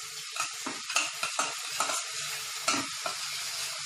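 Onions frying in a pan as ginger-garlic paste is added for a biryani-style potol and prawn pulao, with steady sizzling broken by repeated scraping stirs of a spatula, close and moderately loud.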